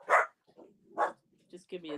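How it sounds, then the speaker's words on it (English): A few dog barks ring out in short bursts, somewhat distant and muffled, with quiet gaps between them. "Hear my dogs barking up."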